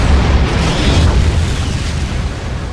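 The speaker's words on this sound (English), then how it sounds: "And Wade reveals the pin of a concussion grenade that he just pulled." A concussion grenade explodes in an indoor fight scene, a loud deep boom with a rumbling roar that holds near and heavy before slowly fading, with no speech.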